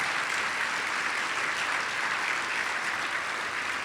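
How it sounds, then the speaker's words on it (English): Sustained applause from a crowd at a black-and-white gala ball, steady dense clapping throughout, loud and close, honoring the staff standing up. "Please give them a round of applause."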